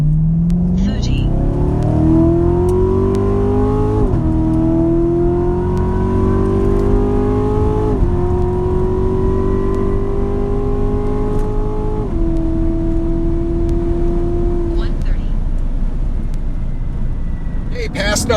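A C7 Corvette pulling hard in a 60-130 mph roll race against a Mustang GT, its engine note climbing steadily and dropping back at each of four distinct upshifts, loud and close from inside the car throughout.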